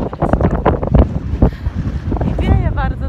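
Wind blows outdoors in a Scottish forest where a machine is working, with rough buffeting gusts against the microphone under someone talking nearby throughout.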